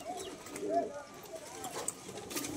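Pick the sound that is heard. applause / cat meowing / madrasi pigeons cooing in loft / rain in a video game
madrasi pigeons cooing in loft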